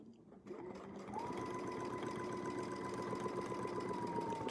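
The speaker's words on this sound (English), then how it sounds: "I'll put a little extra stitch to make sure it connected right there." A sewing machine runs steadily with a continuous motorized whirr while stitching a seam with a Westalee ContiClip setup, sounding loud and close with no talking over it.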